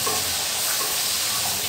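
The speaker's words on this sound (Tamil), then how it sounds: "கொஞ்ச நேரம் எண்ணெயில் அப்படியே வதக்குங்க" Chili powder and turmeric sautéing in hot oil for a small-onion fish kuzhambu, a steady close sizzle and hiss running evenly and alone throughout.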